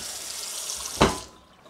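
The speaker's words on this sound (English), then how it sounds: "scrub them off, and kind of rinse them at the same time" A kitchen tap runs as dirty dishes are rinsed beneath it, a close, steady hiss of water broken by a short splashing burst before the flow cuts off.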